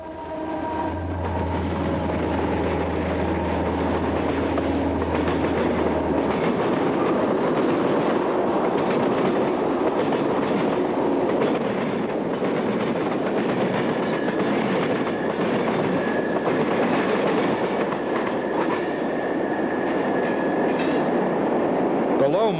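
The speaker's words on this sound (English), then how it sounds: "An SD-50 and SD-45 powered northbound thunders into the tunnel at Morley," A northbound CSX freight led by SD-50 and SD-45 diesel locomotives thunders into a tunnel at Morley, Tennessee. A horn sounds first, then a loud, sustained roar of engines and rolling wagons with rhythmic clatter fills the whole stretch, and a voice talks over it.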